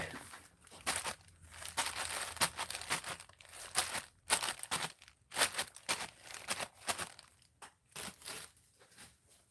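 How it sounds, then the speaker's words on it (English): A plastic bag is crumpled by hand for mono-printing, giving close, irregular bursts of crackling and crinkling with brief pauses between squeezes. "then maybe wrinkles from a plastic bag will give me something more interesting"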